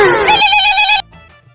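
A phone rings with a bright, repeating ringtone for about a second, loud and close, then cuts off abruptly as the unanswered call is rejected, leaving faint background noise.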